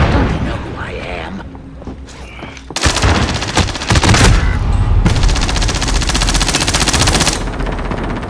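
Rapid automatic gunfire from the Warzone Rebirth video game, a dense sustained burst that starts loud after a quieter stretch with a voice, then hammers on steadily over several seconds.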